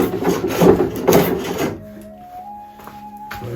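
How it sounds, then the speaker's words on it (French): A hand plane shaves along solid walnut on a Roubo workbench, two rough, scraping strokes close up, followed by quieter handling sounds and a faint tonal hum, with no talk. "je vais continuer au rabot"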